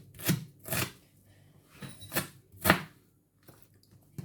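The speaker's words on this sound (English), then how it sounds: "Then what I tend to do is chop it more small pieces like that." Knife chopping onions into small pieces on a board, heard as four or five distinct close, crisp chops spaced roughly half a second apart, with a fainter tap near the end.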